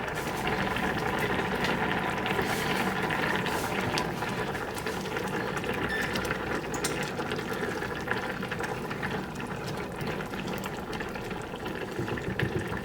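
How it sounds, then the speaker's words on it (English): A pot of octopus braising liquid is boiling on the stove, giving a steady, close bubbling rumble that stays even for the whole stretch with no talk. "we are going to put on the stove and bring to a boil. Then we're going to once you have it boiling, let it boil for a few minutes with a bit of a stir"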